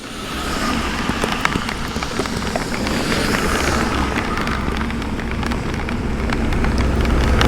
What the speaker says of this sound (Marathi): प्रवास संपता संपता पावसाने सुरुवात केली.